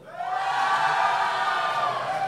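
Indoor crowd at a business event in Veenendaal cheering and whooping, a sustained swell of many voices rising quickly and holding steady for a couple of seconds.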